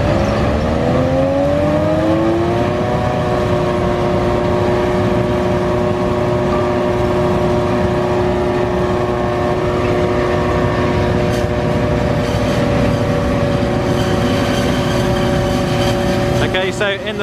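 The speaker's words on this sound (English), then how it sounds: "And there she is, a John Deere 7450 Pro Drive." John Deere 7450 Pro Drive forage harvester engine droning steadily and loudly at a maize harvest, its pitch rising over the first few seconds then holding a sustained hum, with faint clatter near the end.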